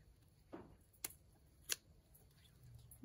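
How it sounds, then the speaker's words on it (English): Shears cut the wings off a harvested quail, giving a few sharp, quiet snips, about three over three seconds, each close and isolated. "next thing you do after they drain a little bit is cut their wings off"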